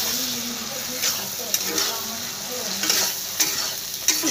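Egg and onion being stir-fried with ginger and garlic paste in a pan, a steady sizzle broken by several sharp spatula scrapes and clacks spread through the stretch, with no talking.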